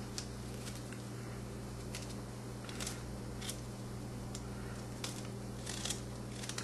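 A spoon scrapes the skin off fresh ginger root in short, repeated strokes, each a quiet, crisp rasp over a steady low hum, with no talking.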